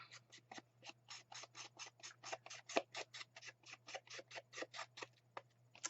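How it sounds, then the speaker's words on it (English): A handheld distresser tool scrapes along the edges of a paper ribbon spool in quick, even strokes, roughly twenty rhythmic rasping scratches in six seconds, close and fairly quiet over a faint steady hum. "I just use my distresser and distress the edges of the spool."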